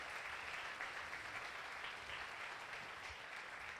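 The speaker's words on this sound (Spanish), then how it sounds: "Quiero que le den un aplauso a esos que se levantaron valientes" Audience at a church family-prayer gathering applauding, a dense, steady clapping wash sustained for the whole span with no talk over it.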